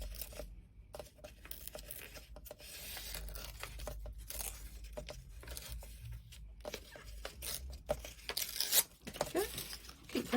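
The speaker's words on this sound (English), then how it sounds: "Now I'm going to rip down there. I'm going to rip across here." Paper torn by hand in a run of short rips and crinkles while a mixed media collage page is assembled, close and fairly steady, with no talk over it.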